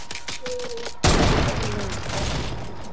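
A shooter video game erupts into a loud, dense burst of gunfire a second in, the rattling shots continuing steadily close by after quieter rhythmic sounds at the start.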